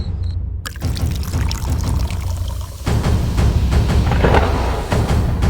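Tap water runs while dishes are washed, a loud continuous close rush of pouring water with clatter and surges, nothing else over it.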